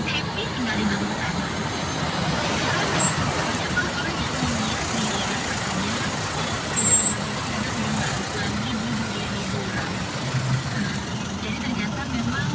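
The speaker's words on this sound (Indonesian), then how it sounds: "Macet total arah bandara." Dense traffic jam on a road toward the airport, a steady wash of idling trucks, buses and cars with a brief air-brake hiss, continuous and fairly loud throughout.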